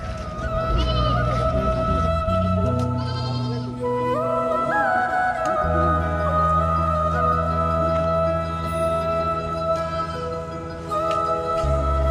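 Goats bleat repeatedly at a weekly livestock market in Karbi Anglong, their cries rising and overlapping at close range above a busy crowd murmur, with sustained calls running through the whole stretch.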